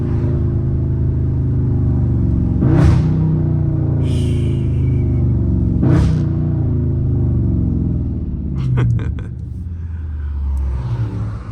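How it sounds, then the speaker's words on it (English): A Dodge Scat Pack with an automatic transmission drifts, its engine holding a loud, steady low drone broken by two sharp rev spikes as it downshifts, then a burst of clicking and rattling near the end. "let me know what downshifts in an automatic car sound good like that"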